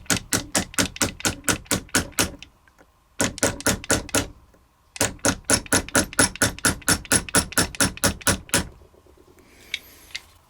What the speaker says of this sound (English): Now take the nylon punch and get it down toward the base and gently tap.